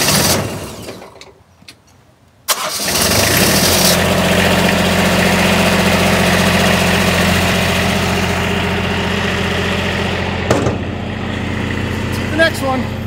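A light tower's engine cranks and catches after a quiet start, then settles into a loud, steady, rumbling idle close by that holds for the rest of the stretch, with a couple of faint knocks near the end.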